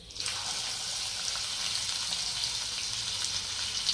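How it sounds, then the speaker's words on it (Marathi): Finely chopped onions with cumin hit hot oil for paneer bhurji, producing a faint, even, continuous sizzle with no voices. "कांदा चांगला परतून घ्यायचा आहे तेलामध्ये"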